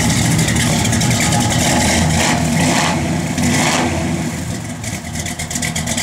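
1965 Chevrolet Impala SS engine revving up quickly from near idle, a loud, close, rumbling roar that holds steady, swells in quick surges and then eases slightly, heard on its own.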